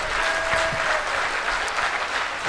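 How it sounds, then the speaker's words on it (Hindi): A crowd at a Hindi poetry recitation applauds loudly, with thick, sustained clapping filling the space evenly from start to finish. "एक बार तालियां और जोर से बजाइएगा फिर"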